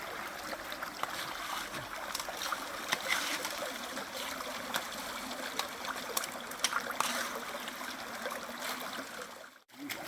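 River water steadily rushing through a drop riffle sluice box, a constant broadband wash with small splashes and trickles, close and moderately loud, no talking.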